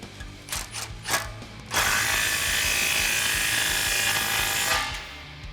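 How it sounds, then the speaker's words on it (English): A handheld impact wrench clatters through several short bursts, then runs in one long hammering rattle to tighten the exhaust tip clamp on a 2015-2019 Mustang GT with Corsa quad 4-inch black tips. "Get my impact and tighten this up."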